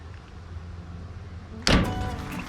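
Cutting the garage's grid power cable in an off-grid setup gives one sudden sharp snip or clunk after a quiet stretch of low room noise, followed by a ringing, decaying tail.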